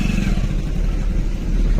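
A two-wheeler labouring along a muddy, dug-up road, its engine droning steadily and close throughout with a low rough rumble.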